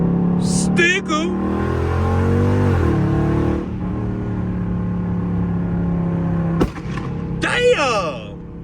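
A loud, tuned Dodge Charger Scat Pack's engine and exhaust rev and rumble up close, with rising and falling pitch sweeps from hard throttle, as people talk over it.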